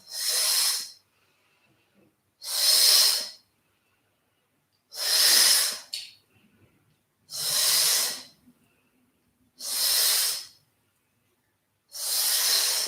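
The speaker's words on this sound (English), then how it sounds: "Give me a nice shooting breath, almost pursing the lips and giving me a nice audible sound" Six forceful exhalations are pushed out through pursed lips during a yoga session, each a loud, close, airy hiss of about a second, separated by roughly two seconds of quiet.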